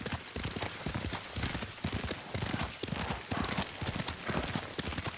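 Horse hooves clop steadily at a brisk riding pace in Ghost of Tsushima, with a dense, continuous rhythm over a busy outdoor background.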